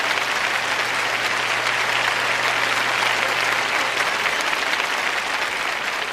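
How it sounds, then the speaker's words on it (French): An audience at a church sermon claps in a dense, even wall of applause that holds steady throughout, with a low hum underneath. "Vous n'êtes pas enthousiasmé, mais vous applaudissez au moins."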